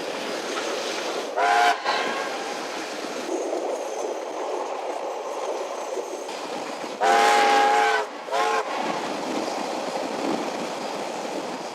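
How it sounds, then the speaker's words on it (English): Locomotives haul a train up the grade toward Reefton saddle, a continuous rumbling run broken by two long horn blasts, one early and a longer, louder one near the end, with faint wheel clatter underneath. "the locos starts attacking the grade up to the Reefton saddle"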